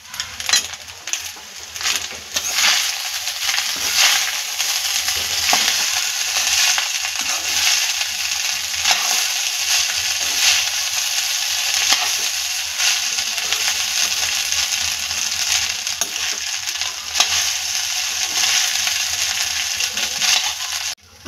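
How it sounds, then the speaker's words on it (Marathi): Kolam jeera rice tossed with plenty of chopped coriander in a pan, giving a steady, close hiss of frying with scraping and stirring clatter running throughout, no voices. "आता हे व्यवस्थित फ्राय करून घेणार आहोत एकत्र"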